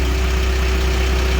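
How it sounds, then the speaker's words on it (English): New Holland B115B backhoe engine idling steadily, a constant low rumble with a steady hum, close and alone with no voices. "Run a little bit longer so the engine oil gets warm"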